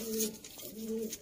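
Sialkoti pigeons of the 35 type coo softly and faintly, with two drawn-out low coos separated by a short pause.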